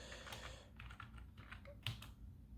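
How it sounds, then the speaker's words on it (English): A password being typed on a computer keyboard at a terminal prompt: a quick, quiet run of close key clicks with one sharper keystroke near the end, no speech. "Let's type in the sudo password."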